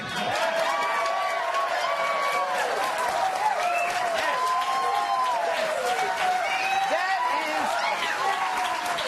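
A television studio audience claps and cheers continuously, a dense wash of applause with whoops rising over it, sustained for the whole stretch.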